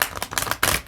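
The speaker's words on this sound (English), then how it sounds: "It's a huge deck, so it's very hard to shuffle." A large tarot deck being shuffled by hand, with soft papery riffles and slides in short uneven bursts, close and fairly quiet, the loudest burst coming near the end.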